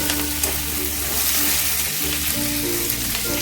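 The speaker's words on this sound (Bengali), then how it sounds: "ক্যাপসিকাম দিয়েও এরকম তিরিশ সেকেন্ডের মতন একটু নাড়াচাড়া করি" Capsicum cubes stir-fried in a pan for a chilli garlic prawn dish give a loud, continuous close-up sizzle with faint stirring scrapes and no voices.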